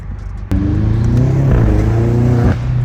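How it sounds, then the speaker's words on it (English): BMW M8 CS V8 rises from a low idle into a loud, deep rev at half a second, its intake roaring and climbing in pitch, holding high for two seconds before easing back down, close and with no voices. "I hope you guys can hear the intakes"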